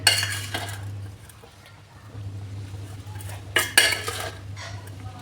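Pudding mixture stirred in a pan, a spoon scraping and clinking against the metal in bursts that are louder at the start and again near the end, over a steady low hum.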